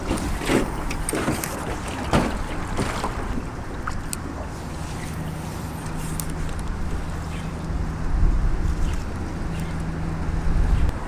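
A boat's outboard motor runs at full throttle heading downriver against a headwind, a steady low drone under heavy wind buffeting the microphone for the whole stretch.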